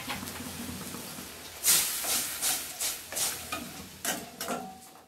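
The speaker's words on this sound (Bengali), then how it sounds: "ভেজে রাখা আলুগুলো গ্রেভিটার মধ্যে দিয়ে দিয়েছি, দিয়ে এবার ভালো করে কষিয়ে নেব।" Fried potatoes stirred into a spiced gravy in a pan for Bengali dhokar dalna, with repeated scraping strokes of a spoon over a steady close sizzle, each stir bringing a brief louder hiss.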